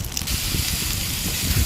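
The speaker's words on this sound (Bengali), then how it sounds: "এবার এটার মধ্যে আমি মোচা ঢেলে দিব।" Chopped banana flower is tipped into a pan of egg frying in oil, setting off a loud, steady hiss and sizzle close up, with a brief clatter at the start.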